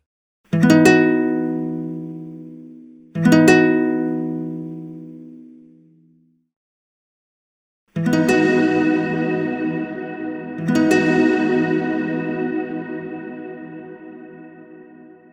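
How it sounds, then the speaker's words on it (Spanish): A distorted guitar-like tone is struck twice dry, each hit decaying to silence, then struck twice more drenched in reverb so the sound hangs and blurs into a long wash. "Vamos a escuchar rápidamente un sonido con y sin reverb"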